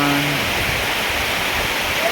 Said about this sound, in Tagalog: Grabe ulan guys, kusog kayong ulan guys.